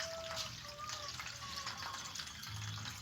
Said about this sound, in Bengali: 3-4 বার জল পাল্টে পাল্টে ধুয়ে নেব।